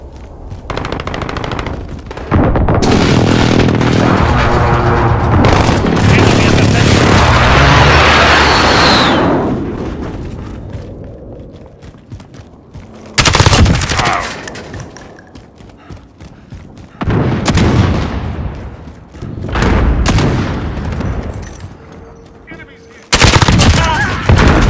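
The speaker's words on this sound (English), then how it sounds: "Enemy precision airstrike inbound." An enemy precision airstrike in Call of Duty: Modern Warfare, with long bursts of loud, rapid machine-gun fire and heavy blasts coming in several separate waves, close and intense, with brief voices in between.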